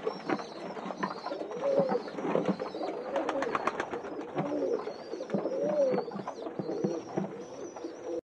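A pigeon coos over and over in soft, throaty phrases, close by and clear, while it undergoes eye surgery to remove a pea-sized mass.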